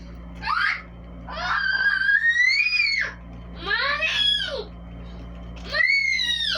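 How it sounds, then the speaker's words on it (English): A young child screams in several long, high, wavering bursts, close and loud, separated by short pauses over a steady low hum in a cabin. "Can you stop screaming?"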